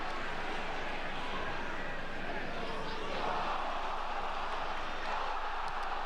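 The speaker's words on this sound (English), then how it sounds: "The crowd goes so crazy." A football crowd roars after Mohamed Salah's goal, a dense and steady wall of cheering throughout, with talk faintly underneath.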